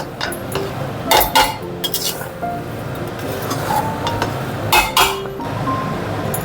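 Ghee-rich bhuna khichuri is stirred in a metal pot, with a spoon scraping and clanking against the sides in uneven bursts of sharp clinks over a low background.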